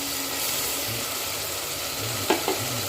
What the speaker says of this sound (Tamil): இது நல்லா பச்சை வாசனை போகிற அளவுக்கு நல்லா வதக்கிக்கலாம்.